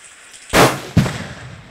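An exploding target detonates when shot, blasting part of a tree stump outdoors: a loud close boom, followed about half a second later by a second sharp crack that rings out and fades.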